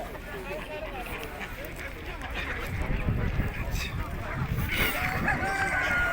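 A rooster crows among geese and other poultry at the Sungurlu poultry market, under steady nearby talk and market bustle.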